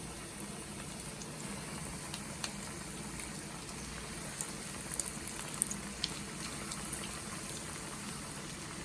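Sesame chicken pieces fry in hot oil for a Nepali-style recipe, a continuous dense sizzle and crackle with small pops scattered throughout, steady and close, no voices.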